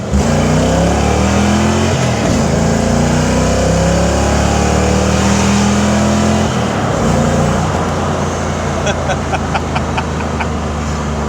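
A 1989 Ford Mustang revs and accelerates hard in first gear, a loud, throaty V8 roar through a Flowmaster exhaust rising through the gears, close up, with a voice briefly in the background.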